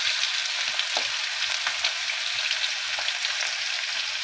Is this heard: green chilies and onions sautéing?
yes